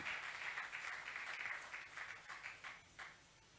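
A church congregation at a Sunday service applauds and cheers, a faint, distant wash of clapping that thins out and trails off over a few seconds.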